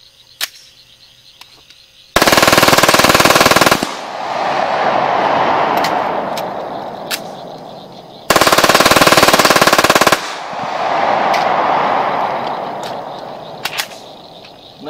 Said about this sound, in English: Okay, so now we've got some incendiary rounds. We're going to shoot our steel target.